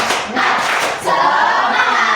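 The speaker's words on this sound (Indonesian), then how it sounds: "Tepuk semangat" Classroom of schoolchildren doing a rhythmic group clap routine, dense overlapping hand claps in bursts with a short pause near the middle, close and fairly loud, with faint voices mixed in.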